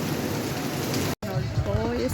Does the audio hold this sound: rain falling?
yes